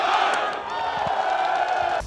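Esports arena crowd at a professional CS2 match in Sydney roars and cheers in a sustained, dense wash of many voices, loud and continuous throughout.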